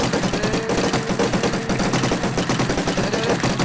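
Rapid automatic gunfire from the Minecraft ArmyCraft server video game fires as a dense, steady stream of loud bursts that never pauses.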